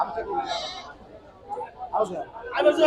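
Small native goats bleat several times amid a busy crowd at a local goat market, their wavering cries mixed with nearby chatter and people talking.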